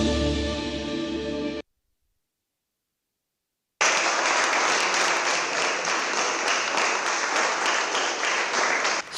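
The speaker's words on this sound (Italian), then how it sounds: "Nell'aula del Consiglio Comunale, con la sola maggioranza presente, parte l'applauso." Applause fills a city council chamber with only the majority present, a loud, dense wash of clapping that breaks off, falls silent, then resumes and holds steady.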